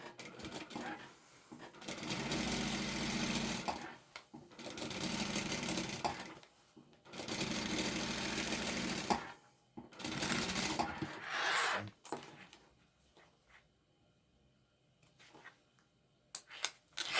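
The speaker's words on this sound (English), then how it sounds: "Now we're going to sew this lining and the bottom piece together, all these layers together." A sewing machine basting together layers of bag lining and a bottom piece runs in four or five sustained bursts separated by short pauses, close and clear, ending with a few small clicks and no talk.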